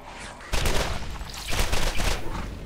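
A grenade blast followed by sustained bursts of gunfire in the video game Borderlands, loud and dense after a quiet start, with brief speech mixed in.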